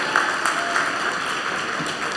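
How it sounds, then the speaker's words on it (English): Gala audience applause rolls on as a steady, even wash of clapping from a large room, moderately loud throughout with a few sharper claps standing out. "Let's give the three of them another great round of applause."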